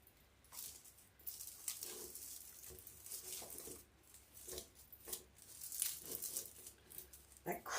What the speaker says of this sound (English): I think that crinkling sound's driving me nuts.